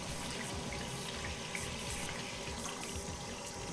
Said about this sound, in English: I'll just run it under some water.